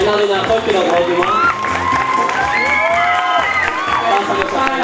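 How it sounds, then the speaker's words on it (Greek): Loud audience applause and cheering at a swimwear fashion show, a sustained wash of clapping with crowd voices, while a presenter speaks over the noise. "Ένα δυνατό χειροκρότημα."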